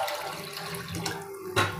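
Water runs and splashes into a pressure cooker holding rice, a brief gurgling pour close to the microphone that ends with a small splash.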